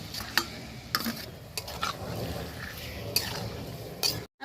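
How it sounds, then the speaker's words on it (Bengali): Spiced eggs and potatoes frying in hot oil, a close sizzle punctuated by sharp clinks and scrapes of a utensil against the pan, ending abruptly. "এই তেলের মধ্যেই আমি মশলা মাখানো ডিম আলুটা দিয়ে দেবো তেলটা গরমই আছে"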